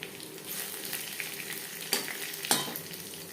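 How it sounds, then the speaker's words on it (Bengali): Bay leaf and panch phoron sizzle steadily in hot oil left from frying fish, with two sharp crackling pops standing out over the continuous frying hiss. "মাছ ভেজে নেওয়া তেলে ফোড়নে দিয়ে দেব তেজপাতা,"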